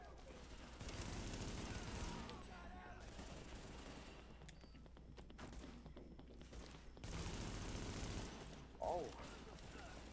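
Rapid automatic gunfire from a shooter video game, Tom Clancy's The Division, in loud sustained bursts with short pauses between, mechanical clicks and a voice talking faintly underneath.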